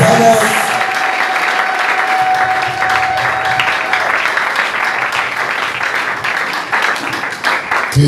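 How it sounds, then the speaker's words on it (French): A church congregation in Likasi applauding loudly and cheering for the Lord, a dense, sustained roar of clapping and shouting that carries unbroken for several seconds, with voices rising within it. "Est-ce que l'Église peut acclamer très fort le"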